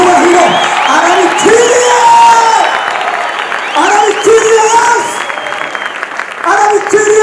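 Concert crowd at a gospel event applauding and cheering with whoops, loud and continuous, while a preacher's voice speaks and calls over the noise throughout.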